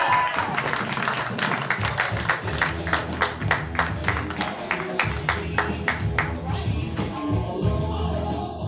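Loud audience applause from a crowd at a live show, dense rapid clapping sustained throughout with no talking over it.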